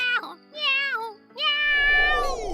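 A voice actor imitates a cat with three drawn-out, wavering meows in close succession, loud and near, in a radio theatre staging of Alice in Wonderland.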